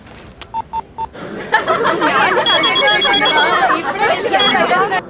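Several short dial tones beep in quick succession, then a phone rings repeatedly while people chatter in the background.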